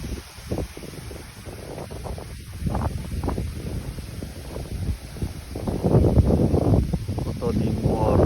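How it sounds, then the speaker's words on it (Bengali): Strong wind blowing outdoors on an overcast day before rain, gusting and buffeting the microphone with a steady rushing roar that swells louder toward the end. "কতদিন পর বাতাস, এরকম বাতাস"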